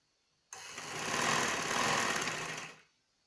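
Sewing machine stitching the sleeves onto a shirt, a single close, loud whirring run of about two seconds that starts abruptly, holds steady and then winds down.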